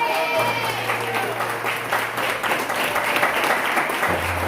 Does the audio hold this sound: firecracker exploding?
no